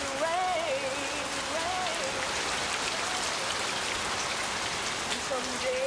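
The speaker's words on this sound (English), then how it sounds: "Someday you go through the rain." Steady, dense rain from a PS2 video game demo pours evenly throughout, with faint warbling animal-like calls and musical tones weaving over the wash of falling drops.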